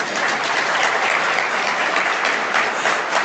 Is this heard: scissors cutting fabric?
no